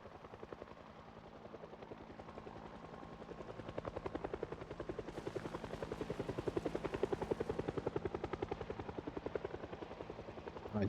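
A helicopter flies overhead in the video game Project Zomboid, its rapid rotor chop steady and continuous for about ten seconds, swelling slightly louder midway as it passes, with no talking.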